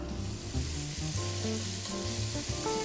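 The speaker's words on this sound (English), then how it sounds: "So you just want to give the leeks like 1 minute of sauteing, not a lot, it's fine." Leeks seasoned with salt and pepper sauté in a pan with a continuous soft sizzle, while faint melodic tones play in the background.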